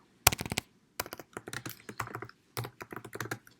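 Typing on a computer keyboard close by, quick clusters of crisp key clicks in irregular bursts separated by brief pauses.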